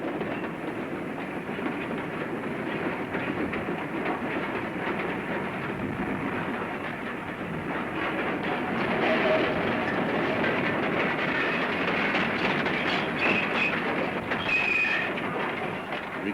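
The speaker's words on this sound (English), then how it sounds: "we'll follow the goods train through the town of Highbridge" A goods train on a branch line rumbles steadily along the track, with rolling wheel noise and occasional faint squeals, loud and continuous throughout.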